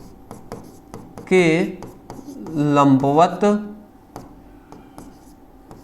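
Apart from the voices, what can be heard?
writing by hand during a physics lesson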